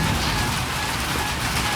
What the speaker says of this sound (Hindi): और जोर की बारिश शुरू हो गई है